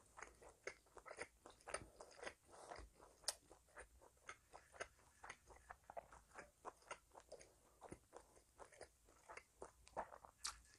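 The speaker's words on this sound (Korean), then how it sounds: "턱이 아파요. 계속 씹어야 되니까." Thick-cut pork belly is chewed close to the microphone during a breakfast eating show, with a quick run of moist, crunchy bites and smacks repeating steadily throughout at fairly low volume, and no talking.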